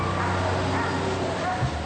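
Greyhounds in rows of crowded kennels yelp and bark continuously, a dense, near chorus of dog voices blending into a steady din for the whole stretch.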